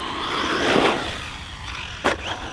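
A DHK Zombie 8e RC car with a plastic spur gear drives on a 4S battery with a 15T pinion, giving a steady near whirring motor and tyre rush with a brief sharp burst near the end.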